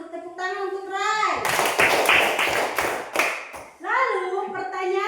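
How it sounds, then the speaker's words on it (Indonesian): Children in a classroom clapping for a classmate named Rai, a brief burst of several sharp, close hand claps between stretches of a voice speaking before and after. "Tepuk tangan untuk Rai"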